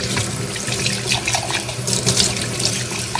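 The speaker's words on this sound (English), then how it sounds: "I think I'm just like enjoying washing the mug at this point" A tap runs continuously while a mug is scrubbed with dish detergent in a sink, a steady close splash of water with small squeaks and clinks, no voices.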